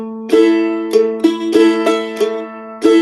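Plucked mandolin chords in a steady country pattern: a low bass note followed by quick down-up strums, repeating evenly, close and clear with no voices.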